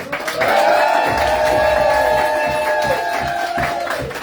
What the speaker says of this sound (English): can we please get a big round of applause for Trisha and Alicia?